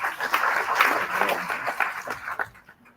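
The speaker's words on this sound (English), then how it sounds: "Let's give him a round of applause again." A seated audience at a building-code sensitisation session claps in a dense round of applause that carries on for a few seconds, then thins and fades out.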